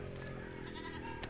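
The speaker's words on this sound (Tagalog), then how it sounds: "Nandun ang ating mga alagang kambing." Pet goats bleat on a farm, a wavering animal call sounding out over a constant, busy background noise.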